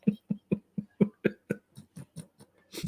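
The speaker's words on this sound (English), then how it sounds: "you catch me in between coughs" A person coughs repeatedly in a rapid, even series of about a dozen short dry bursts, close and moderately loud, ending in a breathy exhale with no speech.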